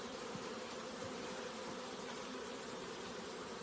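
Bees around a large wild beehive, a steady, low, continuous buzzing hum, faint and even throughout with no voices.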